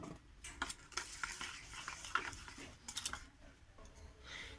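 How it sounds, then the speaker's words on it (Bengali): Sugar being stirred into thick semolina cake batter in a bowl, with soft scraping strokes and light clinks of a utensil, close and fairly quiet, coming in uneven bursts. "আমি এর মধ্যে এই চিনিটা দিয়ে মিশিয়ে নেব।"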